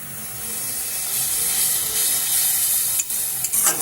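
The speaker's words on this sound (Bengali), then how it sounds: "কাঁচা লঙ্কা বাটাটা দিয়ে আমি ভালো করে একটু কষিয়ে নেব।" Green chili paste frying with spices in a pan for a Bengali doi katla fish curry, a steady close sizzle and hiss with stirring scrapes toward the end and no talking.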